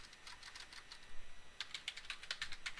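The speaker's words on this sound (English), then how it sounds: "We're going to type in router OSPF" Rapid keystrokes on a computer keyboard while entering router OSPF configuration commands, a quick burst of clicks followed by steadier typing, close and fairly quiet with no talking.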